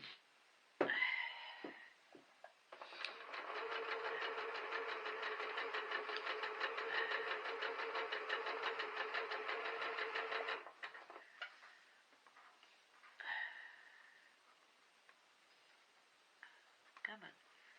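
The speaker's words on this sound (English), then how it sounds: "as I get to the end of sewing this one, then I just slide the next one in" A sewing machine runs in one steady, rapid stitching burst lasting several seconds while quilt patches are sewn, followed by quieter handling clicks and a short second whir, close by in a quiet room.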